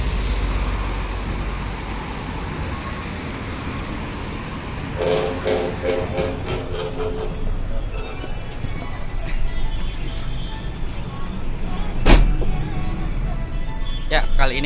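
Steady rumble and road roar fill the cabin of a moving vehicle, with rhythmic clacking, a brief sharp knock near the end and people talking over the constant drone.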